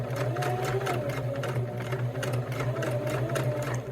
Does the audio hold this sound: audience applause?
no